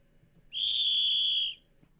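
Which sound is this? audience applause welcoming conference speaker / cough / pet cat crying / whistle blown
whistle blown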